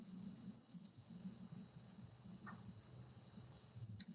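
A computer mouse clicks on an on-screen button, a few crisp, close clicks spaced apart over a low, steady background hum.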